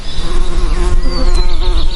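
Honey bees swarm loudly during a honey harvest, a dense, close, continuous buzzing with pitch shifting as individual bees dart near the microphone.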